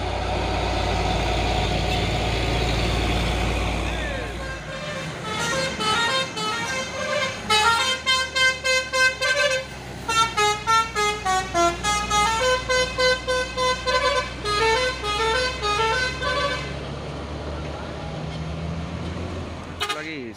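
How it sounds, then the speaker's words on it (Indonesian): Trucks labored up the Bukit Kodok hill road in the morning, among them an orange Fuso and Kalimantan expedition trucks: deep straining engine rumble, then a long run of rhythmic musical horn toots played close by, with voices talking. "ini truk ekspedisi Kalimantan melewati tanjakan Bukit Kodok di pagi hari"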